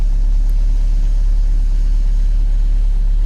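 A Maruti Suzuki Ritz diesel engine idles with a faulty alternator, giving a steady, close, low rumble with a faint mechanical hum and no voices.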